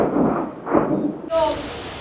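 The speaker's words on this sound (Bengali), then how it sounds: "ভালো বৃষ্টি হচ্ছে।" Heavy rain pours at Susunia Hill while thunder rumbles low and loud in two rolling swells, followed by a brighter crackling burst, all close and continuous.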